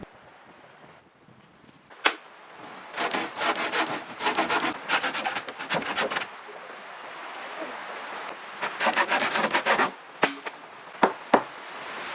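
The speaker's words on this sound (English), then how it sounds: "the excess ends are being trimmed with a saw to give it a neat and uniform shape" A hand saw trims the excess ends of wooden finishing boards on the front of a log cabin roof out in the wilderness. Bursts of rasping strokes come close and loud, with pauses and a few sharp knocks between them.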